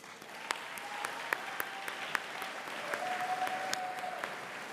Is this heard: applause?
yes